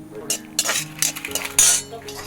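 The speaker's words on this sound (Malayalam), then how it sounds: "കാഷ്നട്ട് മുന്തിരിങ്ങയും കൂടെ ഒന്ന് വറുത്തെടുക്കാവേ." A spoon clinks and scrapes against a pan while cashew nuts and raisins fry in ghee. The clatter comes in irregular, close bursts between short pauses.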